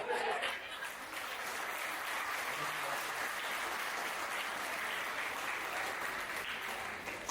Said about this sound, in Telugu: చప్పట్లు కొడితే ఇంతేనా?